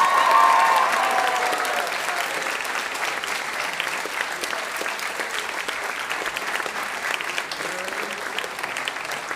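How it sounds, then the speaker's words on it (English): An audience at a school spring music concert applauds warmly, the dense clapping loudest at the start and then holding steady at a slightly lower level for several seconds. "round of applause for this amazing group of musicians"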